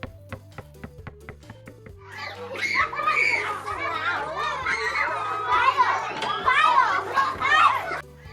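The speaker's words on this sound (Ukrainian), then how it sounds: "Вірно, це діти граються на дитячому майданчику." Children shout, squeal and chatter together at moderate distance, a lively overlapping din that swells after a quieter start with a few sharp taps.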